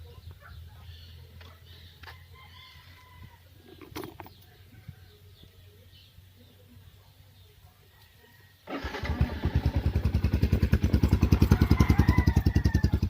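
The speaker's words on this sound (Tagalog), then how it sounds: "tapos na natin install yung max speed power pipe para sa ating Sniper 150. Sound check na tayo" Yamaha Sniper 150 motorcycle fitted with a Max Speed power pipe exhaust starts after a quiet stretch of rooster and bird sounds, then idles loud and close with a rapid, even exhaust pulse.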